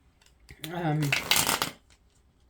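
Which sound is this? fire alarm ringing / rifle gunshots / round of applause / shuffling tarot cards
shuffling tarot cards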